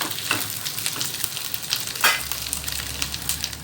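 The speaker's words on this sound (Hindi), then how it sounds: "मैंने हरी मिर्चें डाल दी हैं ताकि हरी मिर्चें भी अच्छे से फ्राई हो जाएं" Fish and green chillies fry in hot oil with onion and garlic, a steady loud sizzle with crackling pops and occasional stirring scrapes, no voices over it.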